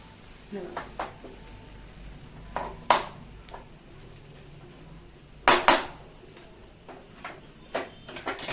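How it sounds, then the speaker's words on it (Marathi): Gram flour for zunka is dry-roasted and stirred slowly in a pan on a low flame, making soft scraping strokes broken by a few sharper clanks of the spoon against the pan. "असं हळूहळू हळूहळू परतत राहायचं"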